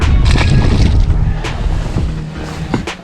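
Strong wind buffets the microphone on a lake during fall bass fishing from a boat, a loud, rough rumble with water sloshing and a few light knocks.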